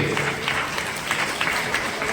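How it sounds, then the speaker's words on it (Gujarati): Audience clapping steadily in welcome of the judges at a district-level youth festival held in a high school hall, a dense continuous patter of many hands at moderate volume. "એમનું પણ આપણે તાળીઓથી સ્વાગત કરીએ છીએ"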